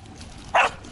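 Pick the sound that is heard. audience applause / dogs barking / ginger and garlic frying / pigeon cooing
dogs barking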